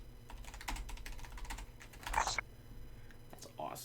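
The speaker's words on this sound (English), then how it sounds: "Time to type my first word." Typing on a Logitech G815 mechanical keyboard, a steady run of close, crisp key clicks with a louder burst near the middle; people talk and react over the keystrokes.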